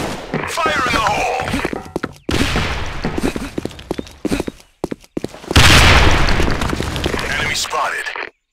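Sudden Attack grenade blasts in a warehouse map, with heavy booms and thuds amid gunfire bursts, broken by short pauses, while radio-style voice callouts play over the action.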